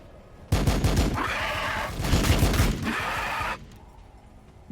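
Rapid bursts of gunfire erupt as units open fire in the strategy video game Warhammer 40K: Battlesector. Two loud volleys come close together, then the shooting stops abruptly.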